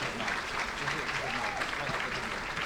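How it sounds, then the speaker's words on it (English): An audience at an AAPAC silver anniversary celebration breaks into dense, even applause, a continuous wash of clapping with faint voices underneath. "You may now applaud."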